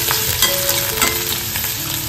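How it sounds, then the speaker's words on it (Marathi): Onion and curry leaves fry in hot oil for a tempering, a steady close sizzle with faint stirring throughout. "आता कांदा आणि कढीपत्ता मस्त फ्राय करून घ्यायचा आहे."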